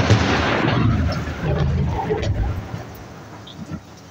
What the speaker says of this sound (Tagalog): Ayan, kulog, kidlat.